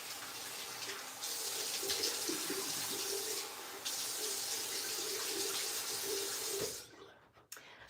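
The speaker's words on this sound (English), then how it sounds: "I'm gonna wash this off." A bathroom sink tap runs while someone washes their face, a close steady hiss of water with brief changes in the stream, then the flow cuts off near the end, leaving faint splashes.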